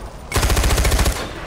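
A rapid burst of automatic gunfire in the video game Far Cry 4 rattles off loud and close, lasting about a second, then cuts off.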